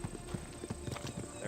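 Goat hooves clatter in quick, uneven clip-clop steps across the ground in Assassin's Creed Odyssey, several animals running close by at a moderate level with a faint steady tone running underneath.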